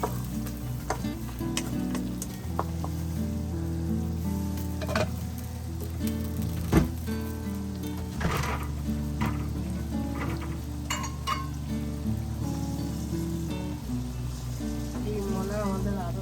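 Onions frying for fried rice in a hot pan, a continuous crackling sizzle with occasional stirring clatter, while a person talks over the cooking.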